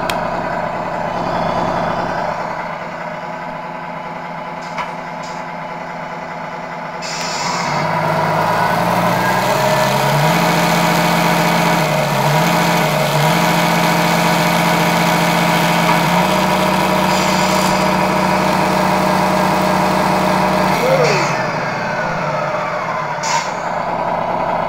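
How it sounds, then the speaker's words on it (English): Tamiya Knight Hauler RC truck with its wheels blocked up, motor running steadily with a continuous mechanical whine that rises in pitch and intensity partway through, then settles back, with no talking. "Block the wheels up here. This sounds kind of cool. Maybe louder. Hear it run."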